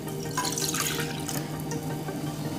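Milk is poured into a kadhai holding a spoonful of desi ghee, a steady close splashing and bubbling pour with a low hum beneath; no talk.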